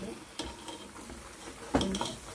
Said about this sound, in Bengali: এরকম করে সবগুলো চিকেন আমি ভাজবো।